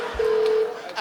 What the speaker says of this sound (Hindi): फोन आ रहा है, स्टेथोस्कोप नहीं आ रहा. आ गया. ये बज रहा है.